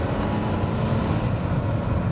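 Buick LaCrosse V6 sedan with a semi-automatic transmission driving on the road, giving a steady low rumble of engine and road noise with a windy hiss that holds an even level throughout, no voices.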